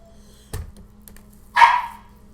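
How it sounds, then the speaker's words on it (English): A dog barks in a home kitchen while pizza dough is being stretched: a short low thump followed a second later by one sharp, fairly close bark over a quiet background hum. "Quiet, dog."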